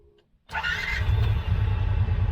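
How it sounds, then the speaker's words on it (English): A 2022 Kawasaki Teryx S-LE side-by-side engine cranks and catches after a near-silent pause, then settles into a loud, close, steady idle rumble. "Turn the engine off. So now we have the engine off. We're going to start it back up."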